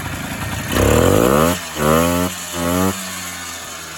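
A Polaris ATV engine runs close by with a freshly adjusted carburettor and no air filter, rising in three throttle blips over a rough idle, loud and alone.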